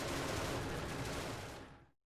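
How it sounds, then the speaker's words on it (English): Sentry cannons fire in the space colony game Genesis Alpha One, a dense, loud burst of rapid gunfire lasting about two seconds before cutting off abruptly to silence. "The little sentry cannons right outside started going off too"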